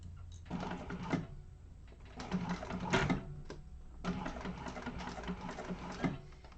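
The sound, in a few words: sewing machine stitching binding on vinyl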